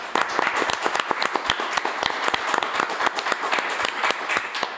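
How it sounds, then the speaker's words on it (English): Lively applause for volunteers at a fighting tournament event: many sharp, distinct hand claps ring out close by in a quick irregular rhythm, a steady burst lasting several seconds with no talk over it. "A great round of applause for the amazing volunteers we've got putting ALU on today."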